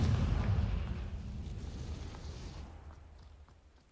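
A fiery Confringo spell explodes in the Hogwarts Legacy video game. A deep, booming blast hits at once, then rumbles and fades away over a few seconds.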